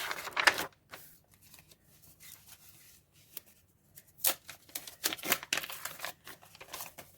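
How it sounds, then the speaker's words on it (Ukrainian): Crinkly tearing and rustling of a small paper sticker packet in short bursts, close and fairly quiet, with pauses of near silence between. "Як круто відкрився пакетик"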